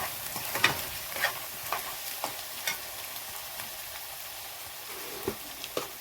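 Liver sautés with garam masala in a pan for a spinach liver fry curry: a soft continuous sizzle broken by intermittent scraping stirs of a spoon, close by and fairly quiet, with no voices.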